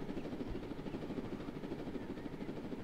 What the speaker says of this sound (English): I've got a helicopter.